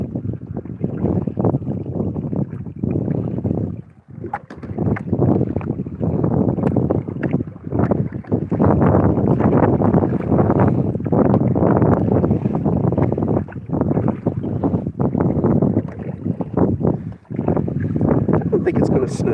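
Steady, loud wind buffeting the microphone outdoors on a cold lake, a constant rushing roar with brief dips, with occasional voices mixed in.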